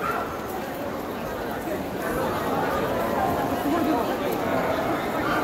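Dogs yip and bark intermittently amid the busy crowd chatter of a crowded pet trade show hall in Tokyo, the barks fairly faint and mixed into constant voices.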